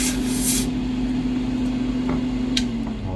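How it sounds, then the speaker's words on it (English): Compressed air hisses steadily onto a dental crown in a lab before sintering, a close, constant airy spray with a low hum beneath and a few faint clicks. "I spray with compressed air just to get any loose debris off before we sinter."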